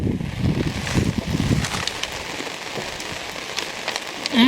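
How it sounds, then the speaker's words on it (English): Heavy rain falling outdoors on a lake in a national forest, a steady dense patter with close drops and a short sharp sound at the end. "that just shows you how hard it's rained since I've been out here"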